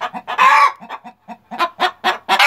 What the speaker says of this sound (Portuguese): Galinha de pescoço pelado querendo botar.